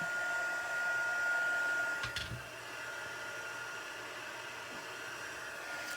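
A heat embossing tool blows steadily on the back of a handmade card, a constant fan-like rush and whine that cuts out briefly near the middle and resumes slightly softer.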